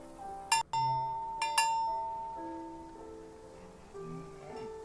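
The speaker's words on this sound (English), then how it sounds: "The sound of this bell has a lot of character." A bell rings near a group of cows: two clear metallic strikes a second apart, each leaving a long, slowly fading ring with bright overtones, and no talk over it.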